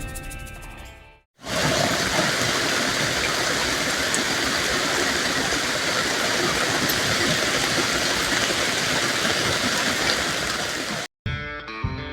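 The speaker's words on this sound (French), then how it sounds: "il pleut vraiment" Heavy rain falls during a ride on a Suzuki 800 V-Strom motorcycle through the Ardèche plain, in sped-up footage: a dense, steady hiss for about ten seconds that starts and stops abruptly.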